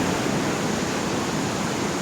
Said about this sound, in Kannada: ನೀರು ಮಾತ್ರ ತುಂಬಾ ಪ್ರೆಷರೈಸ್ಡ್ ಆಗಿ ಬರ್ತಾ ಇದೆ.